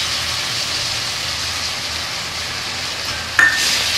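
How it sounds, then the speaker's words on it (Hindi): Onions frying with ginger garlic paste and spices in a pan for mutton kasa, a steady close sizzle throughout with a brief sharper clink of a utensil near the end. "तो सबसे पहले इसको अच्छे से मसाले को थोड़ा भून लेते हैं।"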